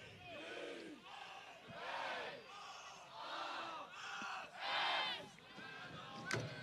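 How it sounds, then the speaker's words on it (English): A faint soccer crowd at an NCAA men's match between Lenoir-Rhyne and Wingate cheers and shouts in rising and falling swells, heard from a distance with a sharp burst near the end. "Crowd trying to get back into this game and give Lenoir-Rhyne some life out there on the pitch"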